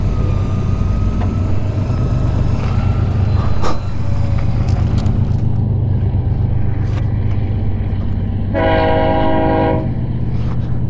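An outdoor train rumbles past at close range near a Siberian ghost town, a loud continuous roll of wheels and cars, then a horn blast sounds briefly near the end.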